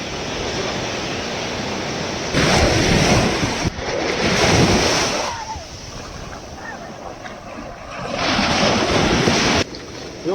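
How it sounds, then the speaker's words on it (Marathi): Strong wind buffets the microphone at Talashil Beach during a fishing competition, with loud gusts rising and falling over the steady wash of breaking surf. "वारा आहे ना."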